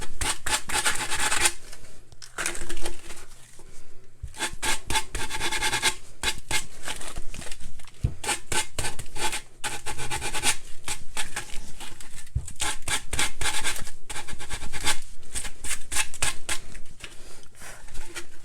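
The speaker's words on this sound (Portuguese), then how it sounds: "eu vou lá e lixo os cantos" Sandpaper of 60 grit rubbing and rasping against the corners of an MDF board, in close, loud repeated strokes that run steadily with a few brief pauses and no talk.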